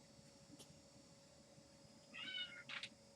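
A cat gives a couple of short, faint meows close by, one after another near the end, over quiet background hiss.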